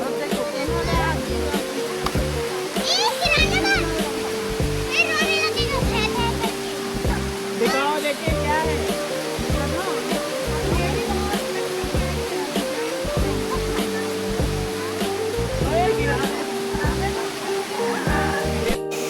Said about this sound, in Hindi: जैसे जैसे नीचे जाते हैं पानी की आवाज़ और साफ सुनाई देने लगती है।